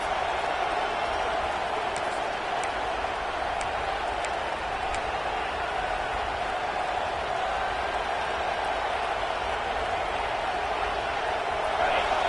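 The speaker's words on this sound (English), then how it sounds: "This crowd bringing the energy and noise early." A college football stadium crowd at a Penn State vs Michigan game keeps up a dense, continuous roar throughout, loud and sustained, with a few faint whistles above it.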